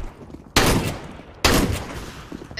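Two loud, sharp bursts of video game gunfire go off about a second apart, each followed by a short ringing decay.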